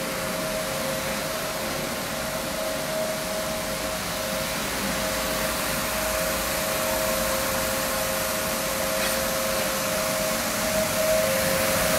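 A rug washing machine pushing excess water out of a rug, giving a constant loud whooshing roar like a big vacuum with a faint steady whine and no pauses.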